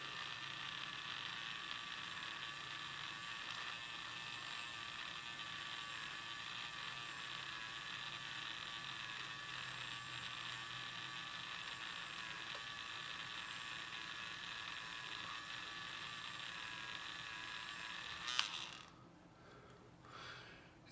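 Small battery-operated pencil eraser running with a steady high-pitched motor whine and faint rattle, constant and close, cutting off near the end.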